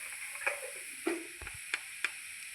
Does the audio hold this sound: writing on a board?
no